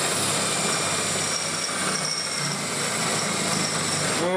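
A battery drill with a big bit boring into metal on a Triumph TR3, a steady whining motor drone that runs evenly and close, cutting off abruptly at the end.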